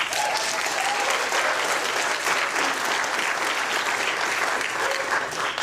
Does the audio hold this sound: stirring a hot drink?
no